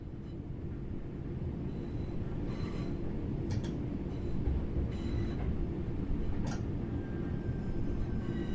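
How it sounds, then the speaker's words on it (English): A train in the Train Sim World 4 simulator rolls steadily under light braking, a constant low rumble of wheels on rails with faint squeals and soft clicks, with no voices. "apply a small amount of braking force to gently bring this train to a stop"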